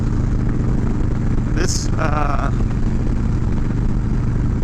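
A 2020 Harley-Davidson FXLRS with a very short aftermarket exhaust runs steadily at idle, a deep, even engine drone, with a brief word spoken over it.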